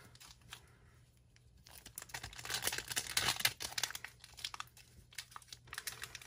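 A foil Pokémon card booster pack wrapper being torn and crinkled open, a run of close crackling, rustling tears that get denser and louder in the middle, then sporadic crinkles, with no talking.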